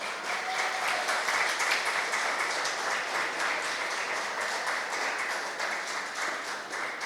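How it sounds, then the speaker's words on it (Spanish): Steady, dense applause from an audience at a university forum marking 80 years of autonomy, a sustained even roar of clapping throughout. "fuerte los aplausos, por favor"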